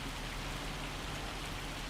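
Steady rain falls on surfaces in the Farming Simulator 25 farming game, a constant even hiss with no breaks and no talk over it.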